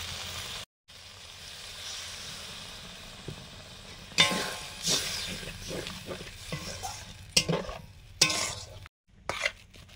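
Kashmiri chili powder and cumin paste sizzle after water is poured into the hot pan. Stirring and bubbling come in uneven bursts, with a few abrupt silent gaps between louder spurts of sizzle.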